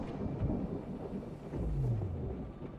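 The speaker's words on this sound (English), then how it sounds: "The sound of the loudest thunder jerks you out of your slumber." Thunder in the video game Rue Valley: a low, continuous rolling rumble with a deeper swell midway, over soft rain-like hiss, fairly quiet and without speech.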